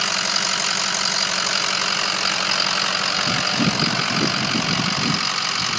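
A 2006 Ford F350 crew cab with a 6.0-liter PowerStroke diesel idles with a steady, close, clattering rumble, the knock growing slightly more pronounced toward the end.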